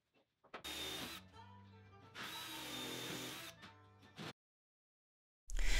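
A power drill drives screws into plywood while assembling a basic cabinet box, whirring loudly in two long bursts with shorter pulses between them, then a brief pause before another burst, close by with no talk.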